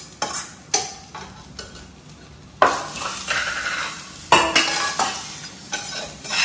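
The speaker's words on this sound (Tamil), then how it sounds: "குழம்பு நல்லா கொதிக்குது." Mutton curry boiling in a pot on the stove, with bursts of bubbling and sizzling broken by sharp stirring and clinking knocks against the pot.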